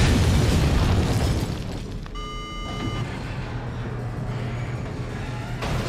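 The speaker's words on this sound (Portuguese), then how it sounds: "pegue o Rocket Launcher, se afaste desse jeito e dê um tiro nela" A heavy rocket launcher shot and explosion from Resident Evil 4 (PC), with a booming, rumbling burst, followed by a brief synthetic tone and lingering low rumble.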